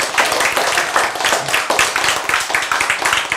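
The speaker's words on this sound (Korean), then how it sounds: "박수 혼자만 치네" One person claps alone during a Christian sermon, a quick, steady run of sharp hand claps with no other applause joining in.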